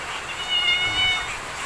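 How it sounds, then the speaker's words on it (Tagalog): A cat meows a few times in a thin, high voice, moderately close, with a faint hiss of room noise behind it and no talking. "Yun yung pinaka-favorite namin pusa"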